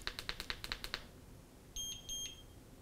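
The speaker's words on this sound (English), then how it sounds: "So you heard the 2 beeps." Control panel of an ECOROAD EC6 electric scooter gives two clear electronic beeps, close and fairly loud, following a quick run of short ticking beeps.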